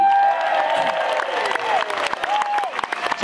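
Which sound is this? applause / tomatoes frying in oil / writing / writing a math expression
applause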